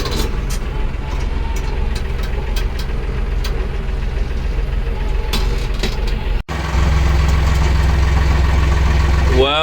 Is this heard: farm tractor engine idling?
yes